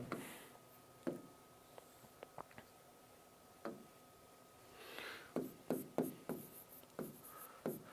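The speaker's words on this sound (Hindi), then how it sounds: "मैं इसके लिए आपको स्पेशली नोट लिख रहा हूं" A pen writes a note by hand during a maths lesson, with scattered scratchy strokes and taps that become a quicker run of close, distinct marks toward the end.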